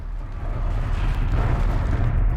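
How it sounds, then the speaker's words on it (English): Rumbling explosions in the video game Horizon Zero Dawn form a dense, continuous wash of booming noise, loud and steady across the moment, with no talk over it. "there is some explosions coming our way"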